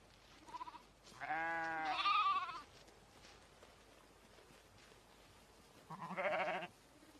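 Sheep of a rare Bohemian Forest breed bleat in two loud, close calls, a long wavering one followed after a pause by a shorter one, with quiet outdoor ambience in between.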